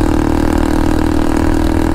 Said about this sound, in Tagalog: Grabe, ang lakas ng tunog ng tambutso.